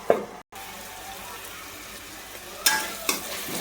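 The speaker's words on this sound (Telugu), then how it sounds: "కొంచెం ఫ్రై కావాలండి, ఫ్రైలాగా కావాలని అది ఉడకాలి." Masala frying in a pan for a special egg bhurji curry, a soft continuous sizzle with a few sharp stirring scrapes near the start and toward the end, close by and without speech.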